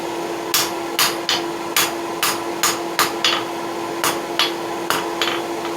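A hammer strikes hot steel on an anvil while a blacksmith refines a small piece into a hook for nail header blanks. The blows are loud and sharp, a dozen or so in an uneven rhythm, over a steady forge hum.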